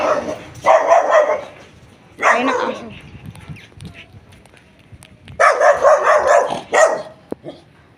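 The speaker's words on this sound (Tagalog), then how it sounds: "Ayun ang aso." A dog barks in repeated bursts, a couple of loud clusters separated by quieter stretches, fairly close by.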